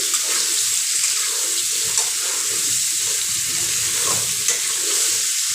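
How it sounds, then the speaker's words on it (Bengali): Pumpkin pieces sizzle steadily in a pan while being stirred, a close, continuous frying hiss broken by a few soft scrapes of the spoon, with no voices. "কুমড়োগুলোকে ভালো করে একটু ভেজে নিতে হবে।"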